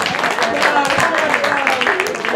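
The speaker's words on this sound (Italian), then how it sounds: "Sette palleggi, un applauso a Bilal." An audience claps for a keepy-uppy contestant at a ball-juggling contest, steady moderate applause with scattered individual claps running throughout.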